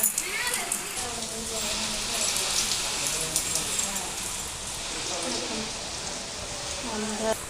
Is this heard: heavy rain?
yes